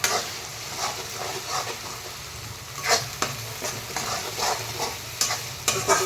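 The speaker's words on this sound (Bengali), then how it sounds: "এই পেস্টটা এখন দিয়ে ভালো ভালো করে নাড়াচাড়া করবো" Onion, tomato, ginger and garlic paste frying in a pan for jackfruit kalia, stirred with a spoon in repeated scrapes over a steady sizzle, close and moderately loud, with no talk.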